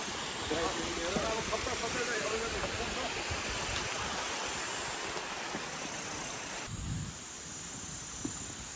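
Water rushes steadily along the Annapurna trekking trail, a constant broadband hiss that sits under someone talking close by.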